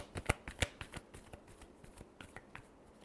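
Tarot cards are given a final shuffle, a run of crisp riffling snaps and soft slaps, sharp at first then lighter and scattered, close by with no talk.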